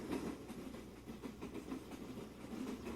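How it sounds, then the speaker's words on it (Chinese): A train sleep-sound from a Soundcore Wakey Bluetooth speaker plays as a continuous rumbling roll with a faint rhythmic clatter, steady and moderately loud, with no voices. "火车的声音，"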